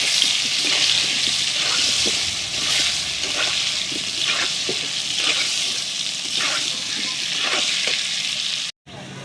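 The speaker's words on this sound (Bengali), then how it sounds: "তার উপর দিয়ে দেবো একটু হলুদ গুঁড়ো দিয়ে ভালো করে আলুটাকে ভাজবো" Potatoes fry with turmeric powder in a pan, a dense continuous hiss of hot oil with faint stirring knocks that drops out abruptly near the end before resuming.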